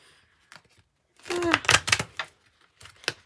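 A hard-to-shuffle deck of cards being shuffled, a brief cluster of quick riffling flutters and taps up close, with a short voice sound mixed in among them.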